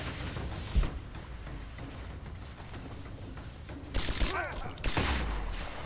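Gunfire crackles through a video game firefight in a cathedral, distant scattered shots under rumbling action noise, then two louder blasts near the end with a voice briefly calling out.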